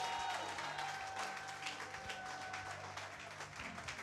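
A church congregation claps and acclaims Jesus, a fairly faint, continuous spread of hand-clapping and crowd noise heard from a distance, with a brief tone and some murmuring voices.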